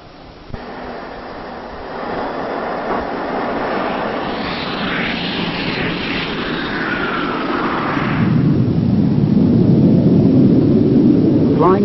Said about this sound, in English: The new aircraft is the Jet Provost, much more powerful than the chipmunk,